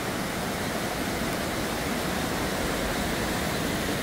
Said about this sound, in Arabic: هذا هو شلال ستوب اند فول سويسرا